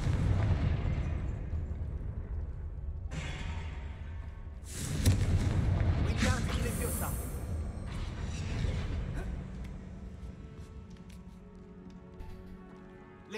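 Confringo explosive spell blasts in Hogwarts Legacy, a few booming bursts at moderate volume with one strong hit near the middle, set against game ambience and music, with no talk.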